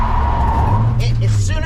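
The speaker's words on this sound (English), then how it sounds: "As soon as I touched that, it slid sideways because I had momentum" A race car sliding sideways after braking with momentum: a loud, close engine drone cut through near the end by a short burst of tire scrub and squeal.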